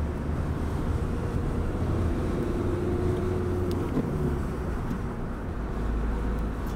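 A vehicle engine drones steadily and close by with a broad low rumble and wind buffeting, a faint rising whine suggesting it picking up speed, no voices over it.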